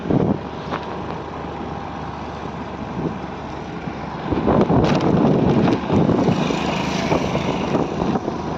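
Riding an Activa scooter on the road, a steady roar of wind buffets the microphone throughout and grows louder and rougher partway through. No voices are heard.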